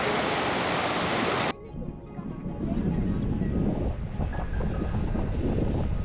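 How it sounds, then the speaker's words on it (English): A loud rush of falling water from a tall waterfall against basalt cliffs in Iceland fills the first moments, then gives way abruptly to a softer, steady watery rumble mixed with wind. "a tall, graceful waterfall set against dramatic basalt cliffs"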